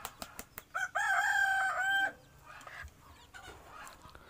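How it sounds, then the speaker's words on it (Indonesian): Farm chickens kept above a rabbit hutch give a few short clucks, then one rooster lets out a loud drawn-out crow, followed by quieter scattered clucking and rustling. "Jadi kami di sini memelihara ayam juga, itu ayamnya di atas."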